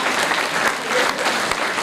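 Audience applause at a students' felicitation ceremony in Aurangabad, a dense, steady clapping from a hall crowd that holds at an even level for just under two seconds.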